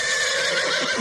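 A horse neighs in a loud, sustained whinny that fills the whole moment, close and unbroken, in a broadcast about special operations of the Second World War involving valuable horses.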